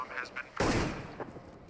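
A single loud, close gunshot cracks out in a CS:GO match on Dust2 and decays over about a second, with faint commentary voices before and after it.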